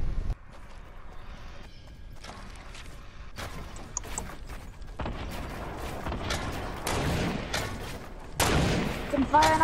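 Gunfire in the Fortnite video game, scattered shots and mechanical clicks building into heavier bursts toward the end, mixed with other game sounds and some voice.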